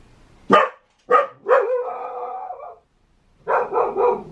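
A dog on guard in a house doorway gives two sharp barks followed by a drawn-out howling bark, a pause, then a quick run of three more barks, close and loud with no voices.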